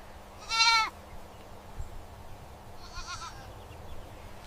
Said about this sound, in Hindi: अचानक चमेली बच्चों की आवाज सुनती है।